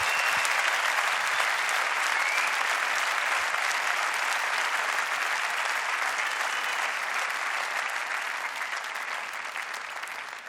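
Audience at the 2018 FIM MotoGP Awards applauding Dani Pedrosa, a dense, loud, continuous wash of clapping from a large crowd that holds steady for about ten seconds and eases slightly toward the end.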